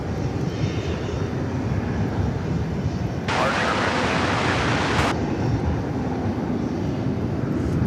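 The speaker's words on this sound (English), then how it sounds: "it turned out to be a FedEx plane" A FedEx plane flying over DFW Airport, heard as a steady loud broadband engine roar throughout, with a brighter rushing hiss for a couple of seconds mid-clip.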